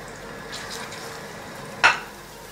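Banana slices fry in ghee with a soft, steady sizzle and a brief stirring scrape, then one sharp utensil clink against the pan near the end.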